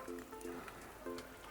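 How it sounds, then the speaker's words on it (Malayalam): Oil poured onto hot charcoal for chicken mandi gives a brief, faint crackling hiss, like light rain pattering on a surface, close by. "ഇനി നമുക്ക് ഇതിനകത്തോട്ട് ഇച്ചിരി എണ്ണ ഒഴിച്ചു കൊടുക്കാം"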